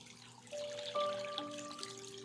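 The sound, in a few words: water dripping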